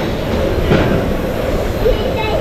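A long freight train rolls past on a century-old railway, a continuous loud rumble of wheels and cars with faint clatter, steady throughout.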